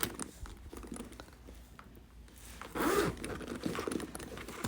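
Zipper pulled on a Louis Vuitton outdoor messenger bag with two zip heads, a close, quiet rasping slide heard alone, strongest in one brief pull near the end.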